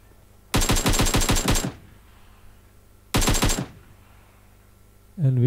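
Two bursts of AKM automatic rifle fire in PlayerUnknown's Battlegrounds, a long rapid volley followed by a shorter one, loud and close, with a brief thud of another sound at the end.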